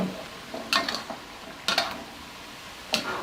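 Pork belly is stir-fried with pickled bamboo shoots and holy basil in a pan: soft background sizzle broken by three distinct scraping strokes of a spatula, moderately quiet and close.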